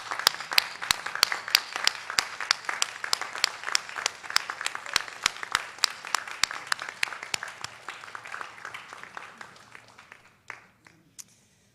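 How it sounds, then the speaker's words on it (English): Applause from the audience at a Northwestern Health Sciences University commencement ceremony in 2024: steady, dense clapping with sharp individual claps standing out, gradually thinning and dying away to a few last claps. "let's have a round of gratitude applause for them."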